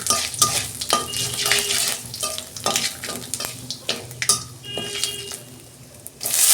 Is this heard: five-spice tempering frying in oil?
yes